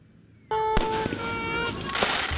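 Fireworks burst at a row of burning firecracker stalls in Barangay de la Paz, Antipolo City: a sudden loud onset, then sharp cracks and sustained whistling, crackling explosions up close.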